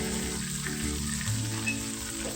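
Masala with salt sautés in a pan for a mutton liver pepper fry, a steady, close sizzle and crackle of frying that runs evenly without talk.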